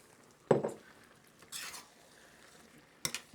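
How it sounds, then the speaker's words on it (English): Bacon and pasta are tossed in sauce in a pan, producing a few separate clanks and scrapes of a utensil against the pan, with quieter stirring and faint frying in between, up close with no talk. "Toss that together and we'll finish cooking the pasta in the sauce"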